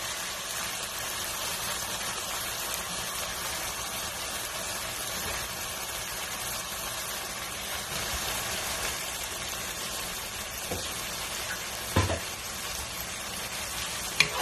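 Paneer frying in a pan, giving a steady, even sizzle that hisses continuously throughout, with a couple of faint clinks near the end.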